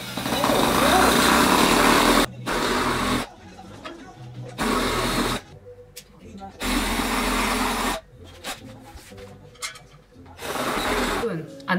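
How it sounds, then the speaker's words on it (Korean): Screws are driven into new flat-pack furniture during assembly at home in London, with loud buzzing power-driver bursts of a second or two separated by pauses and a person talking in between. "구멍 뚫려있는 거에 맞춰가지고 그냥 나사만 박으면 될 것 같아."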